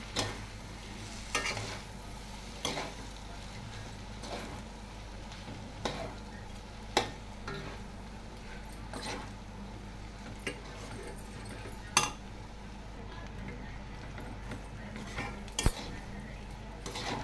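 Veg noodles are stirred and tossed in a pan with a utensil, giving soft, steady frying hiss under repeated sharp clinks and scrapes of metal against the pan, spaced every second or two.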